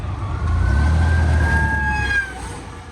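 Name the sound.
emergency vehicle siren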